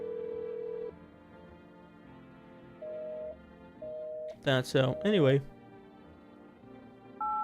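A phone is dialed in the video game No I'm Not Human, giving a few separate electronic tones, with a burst of warbling ringback or melody partway through and a person speaking briefly.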